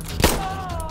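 Single gunshot in Insurgency Sandstorm, one sharp loud crack with a short rumbling tail that rings out over steady in-game background noise.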